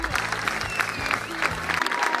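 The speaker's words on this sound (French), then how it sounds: "on peut vous applaudir" Crowd applauding the staff at a scout 24-hour bike event, brief steady clapping with low music or rumble underneath.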